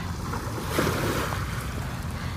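Steady rushing sea noise with waves washing and churning close by, mixed with wind buffeting the microphone.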